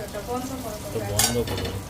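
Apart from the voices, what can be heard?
bitter gourd frying in pan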